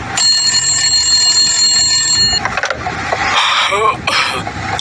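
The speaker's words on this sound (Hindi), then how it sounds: "टेलीफोन की घंटी बजना शुरू हुई।" A bright electric telephone ringer trills steadily for about two seconds, then cuts off. Clattering handling noises and movement follow at close range.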